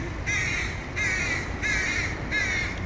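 A crow perched atop a building caws four times in an even rhythm, each harsh call clear and fairly close over a steady low outdoor rumble.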